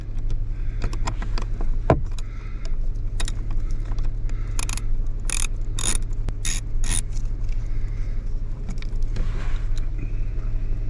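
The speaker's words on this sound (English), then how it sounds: "I'm using a 7/32 socket wrench." A 7/32 socket wrench works on the blower motor of a 2005 Toyota Tacoma, giving short bursts of ratcheting clicks and faint metal rattles over a steady low hum of the running vehicle.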